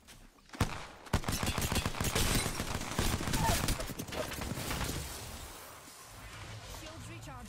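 Rapid gunfire in the video game Apex Legends, dense bursts of automatic shots rattling for several seconds, loud and up close, then easing off toward the end.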